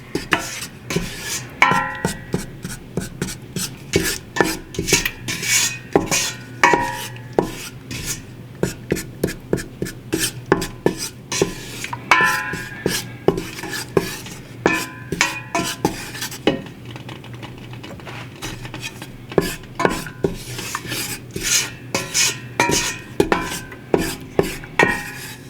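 A utensil repeatedly scraping and stirring a mixture in a pot for chicken soup, close rhythmic metallic scrapes continuing steadily for over twenty seconds with little else heard.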